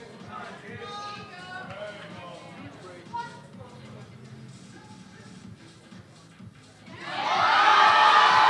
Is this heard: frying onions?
no